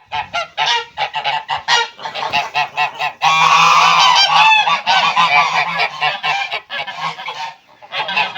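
Geese honking loudly and close by in a poultry yard alongside broilers, a rapid run of repeated calls with a sustained, dense stretch of overlapping honks in the middle.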